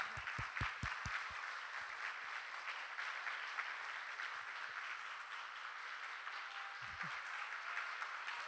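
A room of retreat participants claps steadily for a coordination team coming up on stage, the applause moderately distant with a few low thumps near the start.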